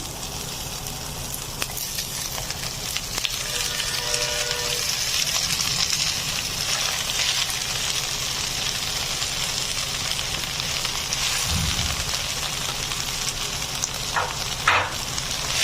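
Water spinach (kolmi shak) fries in a hot pan with garlic and green chili, giving a steady, close crackling sizzle that runs throughout, with occasional louder spits and stirring scrapes.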